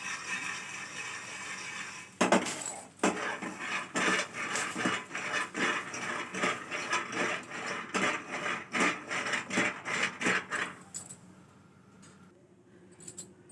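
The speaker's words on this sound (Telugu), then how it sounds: "ఇప్పుడు పల్లీలు వేయించుకుందా." Peanuts roast in a pan and are stirred, giving a steady, rhythmic dry rattle and scraping that repeats close by for about nine seconds and then dies down. No voices.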